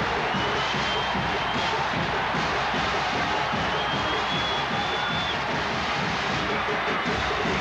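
A football stadium crowd of 97,388 roars in a continuous, dense wall of cheering at a 1992 Alabama–Tennessee game in the foothills of the Smokies, loud and unbroken throughout.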